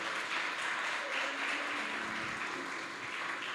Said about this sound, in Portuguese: aplauda Jesus pela sua palavra